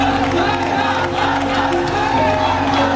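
A huge protest crowd of many thousands marches toward Parliament, a loud, dense roar of massed voices and chanting, continuous and unbroken throughout.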